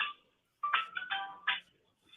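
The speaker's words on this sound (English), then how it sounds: "That's my phone." A mobile phone ringtone chimes in short melodic bursts with brief gaps between them, close and clear in an otherwise quiet room, and no one talks over it.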